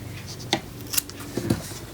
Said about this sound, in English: you can get your scissors and cut it